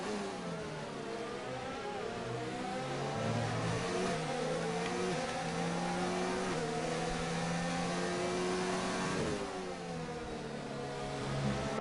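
Formula 1 race cars at the Austrian Grand Prix in a video game, engines revving and shifting through gears in a continuous high-pitched whine, with several cars accelerating together and a commentator talking over them.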